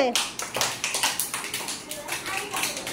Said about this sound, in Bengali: হাততালি দাও পাপড়ির জন্য।